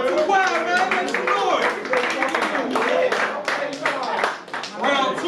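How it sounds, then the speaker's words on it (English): At a hosted rap battle, a crowd claps steadily and loudly, mixed with shouting voices and cheers that ride over the applause for the whole stretch. "clap it up, man. Y'all too quiet"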